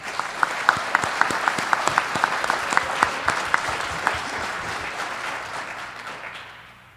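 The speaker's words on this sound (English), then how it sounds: "If anyone deserves a round of applause," Sustained audience applause with many sharp individual claps standing out from the dense clapping, steady and fairly loud for several seconds before fading at the end.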